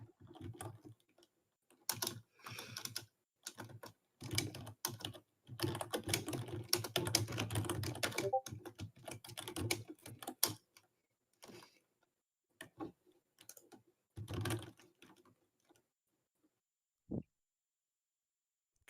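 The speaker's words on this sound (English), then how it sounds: "Oh gosh, you're typing." Bursts of rapid keyboard typing come in uneven clusters with quiet pauses between them, close and clear, with no talking.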